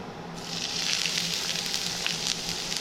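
Ajwain seeds hit 100 ml of hot oil for a bathua paratha stuffing, and a bright, steady sizzle starts after a short pause and crackles on evenly.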